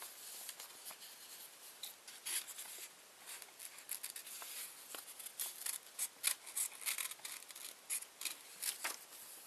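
Scissors snipping paper to shape a paper bat wing, quiet irregular close cuts and rustles at a low level.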